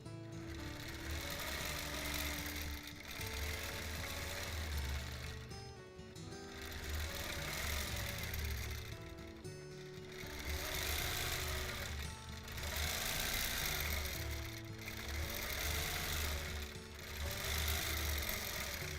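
A sewing machine stitching free motion quilting through a thick, rolled-up quilt, running in a steady, loud mechanical whir with brief pauses and restarts, close and continuous with no talk.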